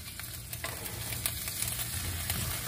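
A beef short rib burger patty sizzles and fries on a grill, a steady close crackle and hiss with small pops, alone without talk.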